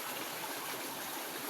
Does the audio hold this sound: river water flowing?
yes